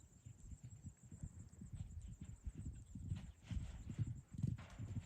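A horse trots and canters loose across a wet field, its hoofbeats thudding in a fairly quick, uneven rhythm that grows louder toward the end, with faint background hiss.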